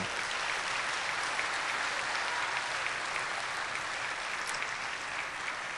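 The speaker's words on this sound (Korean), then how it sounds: "박수로 한번 축복해 주세요" A church congregation applauds in a continuous, dense wash of clapping that holds evenly throughout at moderate volume, heard alone without speech.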